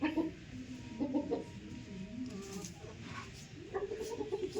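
Hens and roosters cluck in short, overlapping bursts nearby, with a faint background murmur.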